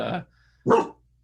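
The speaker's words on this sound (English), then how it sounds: "I have a dog. I'm sorry." Two separate dog barks, one short and one slightly louder a moment later, heard close by in an otherwise quiet indoor setting.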